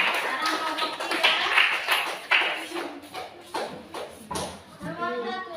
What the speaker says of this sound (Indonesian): Ayo beri aplaus untuk kelompok 2